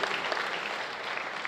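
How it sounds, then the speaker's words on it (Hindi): An audience at a spiritual seminar applauds, a brief, steady burst of many hands clapping together at moderate volume with no talking. "जोरदार तालियां दीदी के लिए।"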